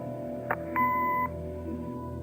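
An answering machine in the Kathy Rain video game gives a single steady electronic beep, lasting about half a second after a brief click, against a quiet background hum.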